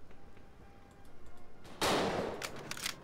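Gunfire in the World War II dinosaur shooter Dino D-Day: a loud, dense burst of shots erupts suddenly and continues as a rapid rattle to the end, after a quieter stretch of low background rumble.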